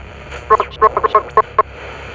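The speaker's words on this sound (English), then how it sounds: "Beeps and static whirred into her ear as she pulled it close to her face." A short run of electronic radio beeps in an uneven pattern over a faint hiss of static.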